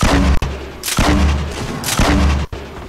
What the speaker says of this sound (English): Grenade launcher, don't mind if I do.